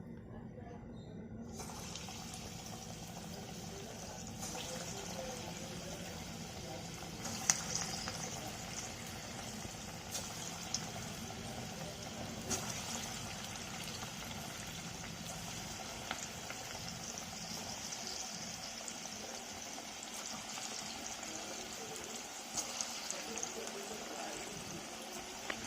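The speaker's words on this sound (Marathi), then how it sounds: "तेल आपलं इथे गरम झालेलं आहे। आता आपण इथे हाताने मस्त अशी भजी काढून घेऊयात।" Moong and chana dal bhaji frying in hot oil in a kadhai, a steady broad sizzle running throughout with occasional small pops and clinks, fairly close and even in level, no voices.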